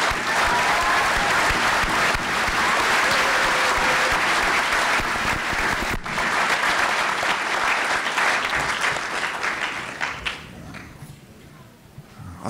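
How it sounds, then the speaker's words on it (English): Graduation commencement audience applauding, a loud sustained wave of clapping from a large crowd that fades and thins out toward the end. "Let's join in a tribute with a great round of applause for today's promising young men and women."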